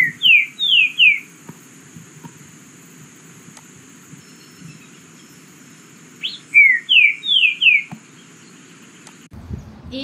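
A green-winged saltator sings two phrases of clear, descending whistled notes, three then five, separated by a quiet gap over faint steady background hiss.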